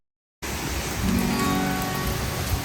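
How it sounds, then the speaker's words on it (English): Steady rain pours down during Hurricane Ian in Florida, a dense continuous hiss that starts abruptly after a moment of silence and stays loud throughout. "it's rain."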